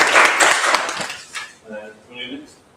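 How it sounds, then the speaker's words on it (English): A short burst of applause rings out at a student candidates' question time event, loud at first and then thinning into scattered claps as a voice begins talking. "Round of applause to the library."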